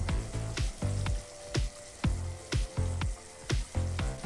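Bell peppers and carrots tossed into beef that has simmered about 45 minutes, sizzling steadily in the pan while a utensil scrapes and knocks in a regular rhythm, roughly twice a second.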